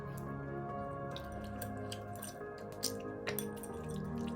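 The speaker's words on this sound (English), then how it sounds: "We squeeze the tomato in the water." Tomatoes squeezed by hand in a bowl of water for rasam, soft wet squishes and drips under a steady kitchen hum.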